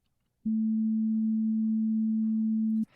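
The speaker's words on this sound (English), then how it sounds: "Here's a tone at 220 Hz." A pure 220 Hz test tone sounds alone, steady and constant, for about two and a half seconds. It starts and stops abruptly, with silence before and after.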